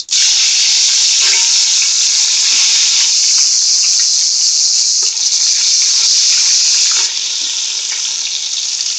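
Steady, loud sizzling of cumin and spices in hot oil, a bright continuous crackle with occasional stirring clinks, running the whole time with no talking.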